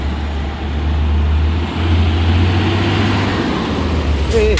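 A truck labours up a steep hill road on Bukit Kodok in extreme weather, its engine a steady low rumble close by amid traffic, with a brief sharp squeal near the end.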